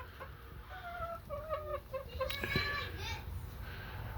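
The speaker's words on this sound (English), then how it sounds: "this is Stanley, my new rooster" A rooster crowing among backyard chickens at home on a rainy day, a short clear crow rising over clucking hens, rain patter and children's voices nearby.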